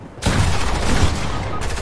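Rapid gunfire in a Fortnite match played as dolphins, a dense loud burst of overlapping shots that starts abruptly and carries on for over a second and a half, close and harsh with no talk.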